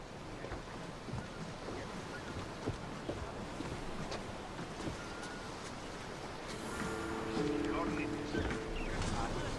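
A sailing ship out at sea in the video game Assassin's Creed Odyssey, with a steady wash of wind and waves lapping against the hull, growing slightly louder toward the end as creaking and tonal effects join in.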